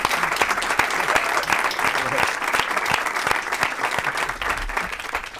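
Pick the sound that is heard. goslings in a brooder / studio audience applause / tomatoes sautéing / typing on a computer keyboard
studio audience applause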